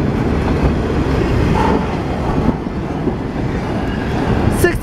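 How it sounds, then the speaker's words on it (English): Southbound CSX garbage freight train rolling past at a road crossing in Columbus, Ohio, a loud continuous rumble and rattle of cars close by with faint clicking, steady throughout. "I'm not smelling that garbage train like the last time"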